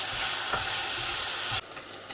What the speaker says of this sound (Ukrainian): Воно злегка підрумянилось, ми додаємо цибулю і також підсмажимо до прозорості.